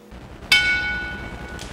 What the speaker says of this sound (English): Bell's underway